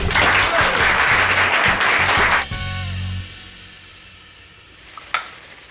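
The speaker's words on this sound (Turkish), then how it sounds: "Alkış, alkış!" A short burst of clapping in a room, loud and dense for about two seconds before breaking off, followed by quieter rustling and a single sharp knock near the end.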